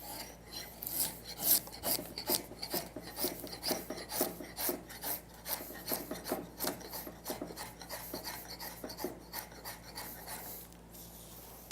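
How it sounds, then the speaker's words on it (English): Draw knife shaving wood to taper a table leg, a steady run of close, rhythmic rasping strokes, each pull a bright scraping burst, repeating about twice a second. "that's how you taper a leg using a draw knife"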